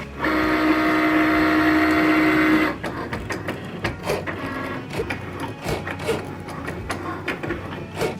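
A Cricut cutting machine works through heat transfer vinyl, giving a loud steady motor whine with a constant tone for the first few seconds, then stopping into softer clicks, rustles and scattered handling knocks.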